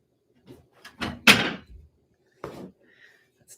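Someone climbs a ladder indoors and knocks off a hedgehog ornament, producing a few scattered knocks and one louder thump that leads into a clattering sequence, then a final thud.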